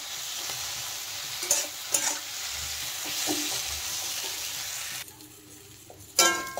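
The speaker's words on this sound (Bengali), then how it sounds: "আর একটু সামান্য কষিয়ে নেব।" Flat beans fry in a pan with turmeric and a paste of mustard, poppy seed and green chili, a soft continuous sizzle broken by several loud scraping stirs of a spatula, with no talking.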